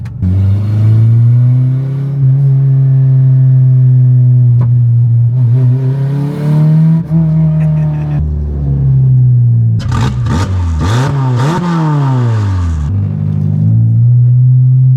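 A naturally aspirated K24 engine swapped into a Toyota MR2 idles loudly and close, then revs up several times in sharp bursts before settling back to a steady rumble.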